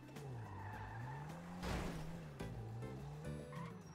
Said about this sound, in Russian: Так мы разбиваем автомобиль.